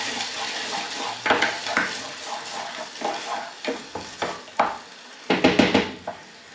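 Chopped tinned tomatoes stirred in a hot frying pan for shakshouka, with wet scraping and clattering strokes of the spoon against the pan over a steady sizzle, heavier bursts of stirring near the end.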